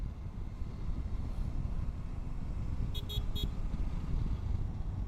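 2023 Suzuki V-Strom 800 DE adventure touring motorcycle being ridden around Eco Park, a steady engine drone mixed with road and wind noise, with a few brief horn-like toots partway through.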